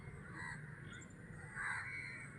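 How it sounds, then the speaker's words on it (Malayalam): Crows caw outdoors at a rocky hilltop, with a few harsh calls rising over faint background noise at moderate distance. "ഈ കാക്കകൾ എന്നോട് നല്ലോണം സഹകരിച്ചു."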